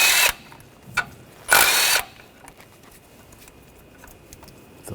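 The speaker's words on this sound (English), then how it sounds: "These 2 ground wires, use the 10mm socket and take these bolts out." A power tool with a 10mm socket backs out ground wire bolts on a 2014-2020 Nissan Rogue 2.5L, giving two sharp, loud bursts plus a brief blip before quiet shop background.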